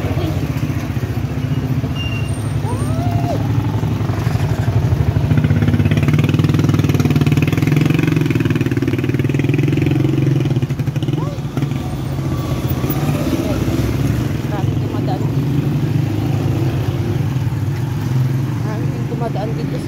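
Tricycles with small motorcycle engines pass along a street, a steady midrange engine drone and rumble running throughout, with occasional revving and other traffic noise around.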